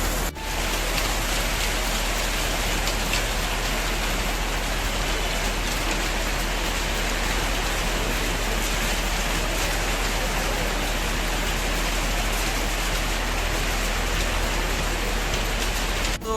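Rain falls in Kurseong, Darjeeling, a dense, even hiss of drops on surfaces that holds steady and loud throughout, with no one talking.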